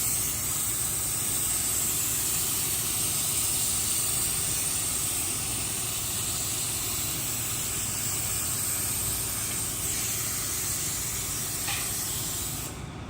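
Activator sprayed onto hydro dipping film in one long, steady, close hiss that carries on without a break for the whole stretch, with a faint engine-like hum underneath.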